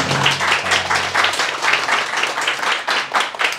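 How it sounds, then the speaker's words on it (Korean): Steady applause from a group, many hands clapping continuously in a busy, even patter. "큰 박수 부탁드리겠습니다"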